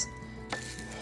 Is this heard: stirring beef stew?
yes